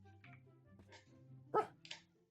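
A dog in the Minecraft video game barks a few times in short, separate yips near the end, heard alone over a low steady game background hum.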